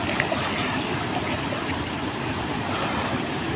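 Water rushing at Boracay Falls, a steady loud broadband roar of flowing water filling the whole clip without pause.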